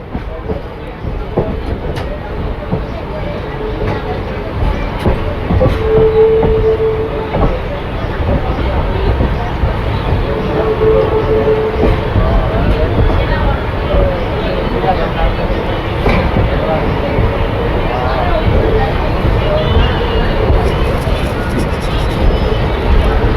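A local train runs at platform one of Jetalsar railway station, with a loud continuous low rumble and rolling clatter of the wagons filling the whole span, and voices talking beneath it.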